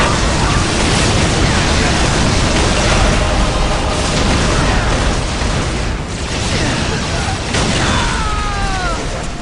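Whirlwind artillery tank explosions in Warhammer 40K Dawn of War, a dense, continuous barrage of booms and crashes roaring loudly throughout, with whistling shell sounds streaking through near the end.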